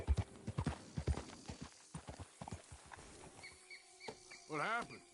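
Horse hooves clip-clop in a video game, a run of distinct hoof beats under talking, followed by a brief whinny.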